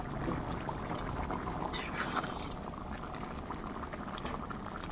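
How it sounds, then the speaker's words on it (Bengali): Vegetarian khichuri bubbles steadily in a pot, a continuous close simmering burble with soft popping throughout and no talking. "এবারে 10 মিনিট পর আমরা দেখে নেব খিচুড়িটি সেদ্ধ হয়েছে কিনা।"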